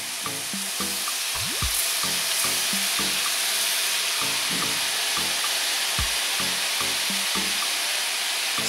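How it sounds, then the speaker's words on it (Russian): Rice tipped into a frying pan of sautéed vegetables, a loud steady sizzle and hiss with repeated scraping stirs of a spatula against the pan throughout. "и добавляем рис."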